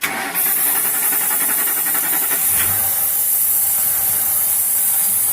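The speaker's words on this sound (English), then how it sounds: "So it's running while it's spraying." A steady, loud hiss of spray runs throughout, with a low, rough-running car engine rumble underneath; a brief sharper burst stands out near the start.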